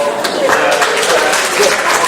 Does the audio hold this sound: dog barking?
no